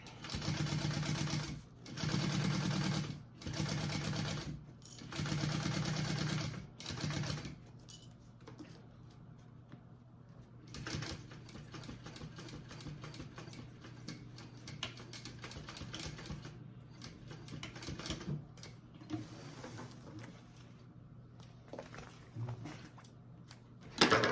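Sewing machine stitching a seam on a Lady Dior-inspired handbag, running in several steady bursts with short pauses, then quieter handling and fabric rustle, no talking.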